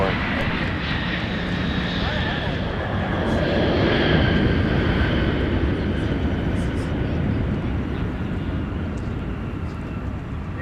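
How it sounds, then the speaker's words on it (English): An arriving Sun Country Boeing 737 at Minneapolis–St. Paul airport makes a loud, steady jet roar that swells slightly midway, with a faint high engine whine above the rumble. "We're going to swing to our left here and catch our arriving Sun Country 737"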